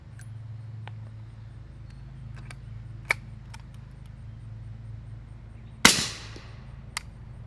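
Single 9mm shot through a YHM R9 suppressor outdoors, a muffled sharp crack with a short decaying tail, heard at a distance over a steady low hum, with small clicks before and after.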